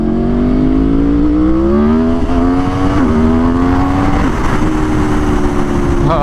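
An Aprilia RSV4 sport motorcycle on a highway, its engine droning loud and steady with a rising and falling pitch as it rides at speed, close to the microphone.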